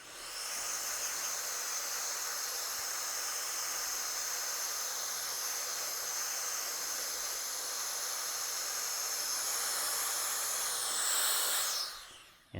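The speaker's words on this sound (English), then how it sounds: "I'm just going to take a blower." Air blower hissing steadily to dry small engraving on a pistol or rifle, a continuous close airy rush that holds evenly for about twelve seconds before cutting off.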